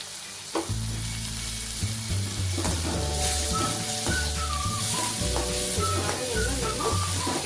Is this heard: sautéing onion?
yes